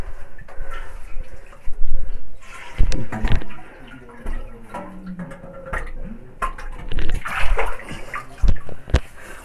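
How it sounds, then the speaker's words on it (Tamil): Water splashes and trickles over a stone Shiva idol during an abhishekam ritual at a hilltop cave shrine on Kondarangi Hills near Keeranur, with uneven pours and drips and some background noise. "இந்த பாருங்கள் அபிஷேகம் பண்ணுறது தண்ணி."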